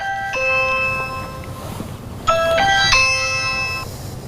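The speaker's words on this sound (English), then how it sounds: "Somebody's ringing our doorbell at the office." An office doorbell chimes twice, each a bright multi-tone ding-dong ring with sustained ringing overtones, the second burst louder and closer, over low background rumble with no talk.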